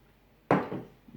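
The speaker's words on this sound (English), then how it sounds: "and pour it up." Hasen Bräu Hell lager being poured into a glass: a sudden splashing gush of beer begins midway, loud and close, then eases into a softer foaming trickle.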